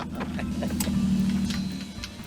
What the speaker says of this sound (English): Can you hear the engine?